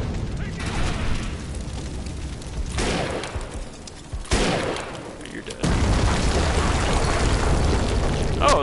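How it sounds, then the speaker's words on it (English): Flame grenades in Defiance 2050 go off in a few heavy booming bursts, then give way to a dense, continuous rushing roar, like fire, in the final seconds. "Quit throwing your fucking flame grenades"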